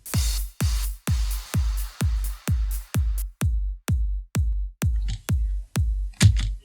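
Layered EDM kick drum made in FL Studio, a deep sub layer with a noisy top layer, hitting alone in a steady loud pulse of about a dozen snappy, booming beats.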